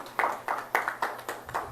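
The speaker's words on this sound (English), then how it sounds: "Let us give ourselves a round of applause." A small group of people at a cricket club sponsorship press conference claps in a few short, separate bursts, each one loud at the start and then quickly dying away, with quiet gaps between them.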